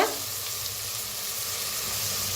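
Onion and tomato fry in a pan with red chilli powder, coriander powder, asafoetida and turmeric, giving a steady, close hiss and crackle with a small burst at the start. No one speaks.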